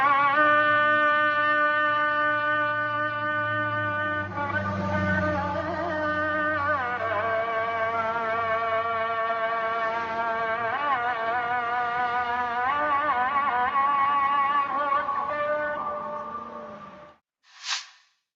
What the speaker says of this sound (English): the Muslim call to prayer, which happens many times a day, starting around 5 a.m. and sounds like this.